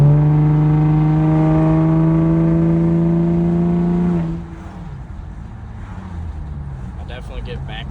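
A 2011 fifth-gen Camaro with a 3.6L V6, Trifecta tune and ghost cam drones loudly with a steady exhaust tone that drops off after about four seconds into a quieter rumble.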